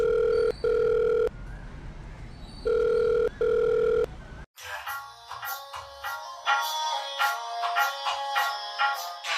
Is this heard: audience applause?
no